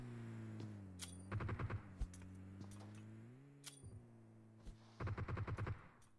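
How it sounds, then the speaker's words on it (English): Bursts of automatic gunfire in the mobile battle royale game PUBG Mobile, two rapid volleys near the start and end with scattered single shots between, over a steady low engine-like drone. "Paw Paw is also shooting at someone"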